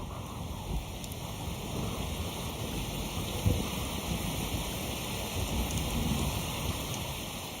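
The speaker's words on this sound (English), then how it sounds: "Moisture from the rainforest below is forced to rise by the sheer cliffs, releasing torrents of rain." Torrential rain pours steadily onto sheer rainforest mountain tops, a dense, continuous hiss and roar with no pauses, loud and close throughout with no voices.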